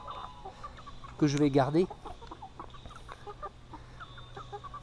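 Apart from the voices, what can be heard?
Gauloise dorée hens and Wyandotte chickens clucking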